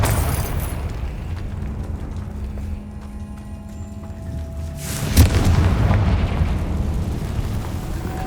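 A Confringo blasting spell in Hogwarts Legacy, with a low rumbling ambience that swells into a sudden booming explosion, followed by a loud, sustained roar and crackle of debris.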